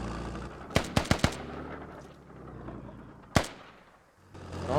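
Gunfire in the Squad video game: a quick burst of four rifle shots, then a single louder shot a couple of seconds later, over faint background rumble with no talking.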